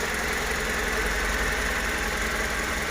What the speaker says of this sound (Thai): เครื่องยนต์เดินเรียบนะพวงมาลัยไม่ดิ้นไม่สั่นนะครับ